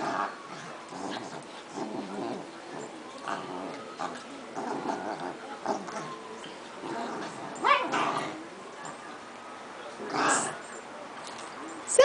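A four-month-old puppy and a ten-year-old dog indoors on a sofa whimper, yip and bark in short repeated bursts, close and moderately loud, with a person's voice mixed in.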